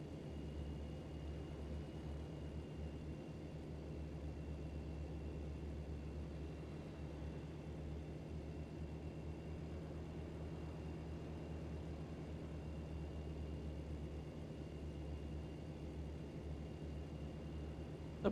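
An airplane flies overhead in American Truck Simulator, heard as a faint, steady, low droning hum that holds unchanged from start to finish.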